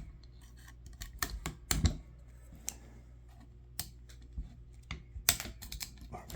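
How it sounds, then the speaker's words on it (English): A screwdriver pries a small clip off the pin of a motorcycle air-cylinder center stand, producing a quiet series of sharp metallic clicks and scrapes, with a few louder snaps close by. "So first you're going to take this little clip off the pin"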